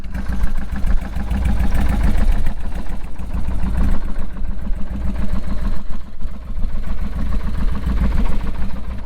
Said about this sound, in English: in case you're wondering what a Danmoto Highwayman for a rigid mount Sportster sounds like